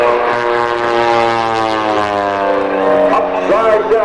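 Aerobatic propeller airplane in an air race, pushing upside down through an octagonal outside loop, gives a loud, steady engine drone with strong harmonic whine that holds throughout, shifting slightly in pitch near the end.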